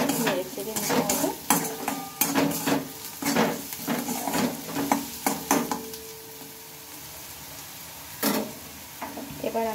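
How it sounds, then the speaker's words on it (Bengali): Onions frying in a pan with salt just added, stirred steadily: repeated spatula scrapes and clinks over a constant sizzle, close and fairly loud, briefly easing off before the stirring picks up again. "লবণটা দিয়ে একটু ভালোভাবে নেড়ে চেড়ে নিতে হবে।"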